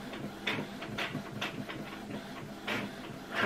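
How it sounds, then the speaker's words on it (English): Home printer running in another room, faint rhythmic whirring and clicking passes of the print head, soft and distant. "My husband must be printing out something."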